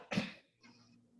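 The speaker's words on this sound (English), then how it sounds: "Oh, that cough sounds bad." A single short, sharp cough close by on a theatre stage, followed by a faint breathy rasp as the throat settles.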